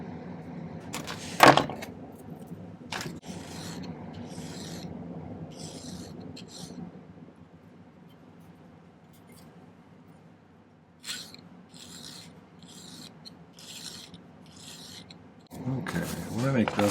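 A file scrapes a metal bezel for an onyx pendant in short rhythmic rasping strokes, close and moderately loud, with brief clatters and pauses between bursts.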